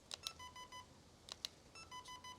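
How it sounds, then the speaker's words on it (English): Thin electronic beeps from an airsoft gun repeat in quick pairs and short runs, with a couple of sharper clicks between them, fairly quiet and close. "now you could hear the airsoft gun is angry and making a beeping sound"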